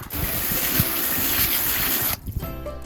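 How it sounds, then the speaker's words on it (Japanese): Running water sprays over a steel wheel for a camper van's studless winter tire, a loud steady hiss close by that cuts off abruptly near the end, leaving faint drips. "マッシュ用の鉄のホイールはクリーナーで掃除するほどは汚れてないんですけれども、水洗いだけしておきます。"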